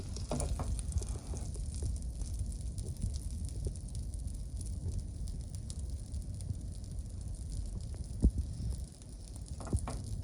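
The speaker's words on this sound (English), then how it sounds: "You don't like to cook butter at this high of a heat." Butter sizzles steadily in a pan over high heat, a soft continuous crackle and hiss at close range with a few faint clicks and no talking.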